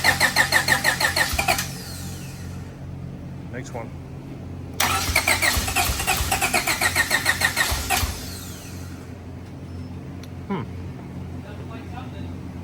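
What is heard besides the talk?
new car engine starting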